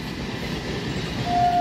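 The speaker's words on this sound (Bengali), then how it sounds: "আপ লোকাল ট্রেনটি মেন লাইন দিয়ে ব্যান্ডেল রেলওয়ে জাংশন অভিমুখে যাচ্ছে।" An up local train runs along the main line toward Bandel Junction with a steady, loud rumble of wheels and carriages that swells slightly toward the end, with a thin high whine near the finish.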